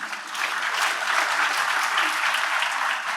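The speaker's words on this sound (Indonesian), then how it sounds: "Pak Nevi Budianto, tepuk tangan." An audience applauds a performer's introduction at a Kiai Kanjeng stage event. The crowd clapping is dense and sustained and stays at an even level for a few seconds.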